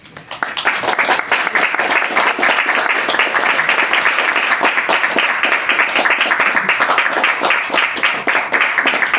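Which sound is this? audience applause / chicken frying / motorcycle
audience applause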